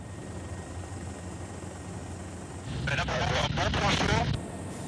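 A French Air Force Caracal military helicopter flies over wildfires in Gironde, making a steady, moderately loud rotor and engine drone. A voice speaks over it in the second half.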